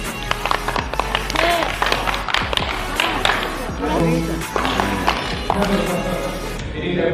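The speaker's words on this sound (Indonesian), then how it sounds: "sekarang kita mulai tepuk" A group of community workshop participants clap together in rhythm, with counted patterns of sharp claps running throughout, close and lively, while people talk over it.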